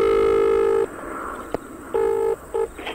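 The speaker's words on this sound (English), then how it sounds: "Who do you want to phone, Gavin or Nigel?" Telephone tones sound during a rally stage breakdown, a long steady dial tone and then a few short dialing beeps with a click between them, close and clear.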